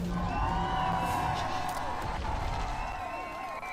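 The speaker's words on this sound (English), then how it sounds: "Can we get the studio cheer sound effect one more time?" Studio cheer sound effect played on a live stream, a continuous canned crowd roar with whoops and scattered clapping that holds steady for several seconds.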